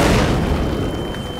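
Shell explosion used as a theatre sound effect, a loud, deep, rumbling boom that fills the whole moment and slowly decays, without any voices.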